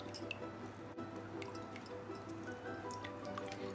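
Quiet drips and trickles of water falling from a cloth of fresh paneer being squeezed, soft and close against a low hum.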